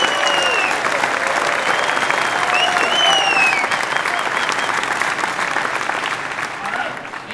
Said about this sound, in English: please give a round of applause for Stacy and Todd with Lifecycle and Creative Suite